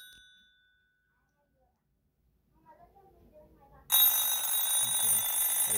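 After a few quiet seconds, the bell of a transparent Conair HAC SW205 telephone from the 80s/90s suddenly starts ringing loudly and continuously, a harsh metallic jangle close by.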